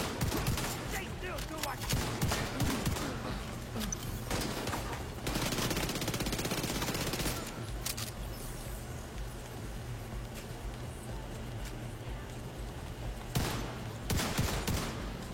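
SMG gunfire in a video game, rapid bursts of automatic shots in long sustained stretches with pauses between, mixed with other game sounds and voices talking over it.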